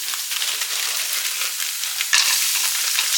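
Chopped onion sautés with browned ground beef in a hot pan, giving a loud, dense, steady sizzle with light stirring scrapes and a brief surge partway through, with no voices.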